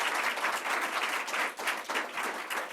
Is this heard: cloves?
no